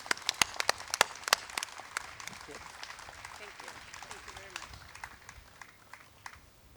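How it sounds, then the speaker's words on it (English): Scattered clapping at a ceremony, sharp and fairly loud at first, then thinning into a few faint claps and low murmuring. "everybody give yourselves a round of applause"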